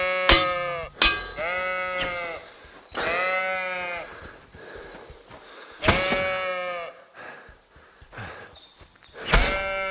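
Sheep in the video game Kingdom Come: Deliverance 2 bleat repeatedly. The loud, close calls come in a series of separate bursts with short quiet gaps between them.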